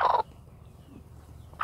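A brooding Cheonggye hen sitting on eggs gives a harsh warning call with tail feathers raised, two loud bursts at the start and end with quiet between, close by.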